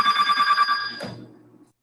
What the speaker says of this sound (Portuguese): Olha o telefone tocando